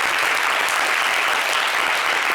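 A television studio audience claps steadily and evenly throughout, a dense wash of applause with no voices heard over it.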